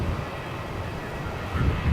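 A Singapore Airlines Airbus A350-900 takes off at night from Melbourne Airport, a continuous distant jet engine roar with a broad low rumble that swells slightly toward the end.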